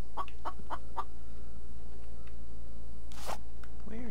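A chicken in the video game The Infected clucks in a quick run of four short calls, then goes quiet before a brief noisy burst and a final faint call.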